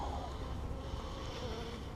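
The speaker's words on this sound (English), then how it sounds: "it don't take much to fire these bees up" Honey bees stirred up during a hive inspection give off a dense, steady buzz that holds close and constant, with no voices over it.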